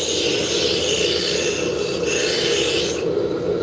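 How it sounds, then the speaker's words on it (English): A spindle gouge cuts a wooden drop spindle turning on a lathe, giving a steady, continuous bright rasping hiss that holds even throughout, close and fairly loud, with no voices. "I'm going to go to my spindle gouge, which is much more open"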